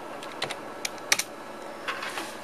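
Keys clack on a computer keyboard to start The Oregon Trail (1990, DOS, floppy), several separate keystrokes spaced unevenly with a quick double tap in the middle, close and clear in a quiet room.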